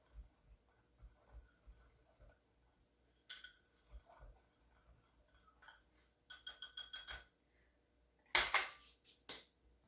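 Metal utensils clink against a bowl while a thick milk-based icing glaze is mixed, giving faint scattered taps that build into quicker bursts of clinking near the end.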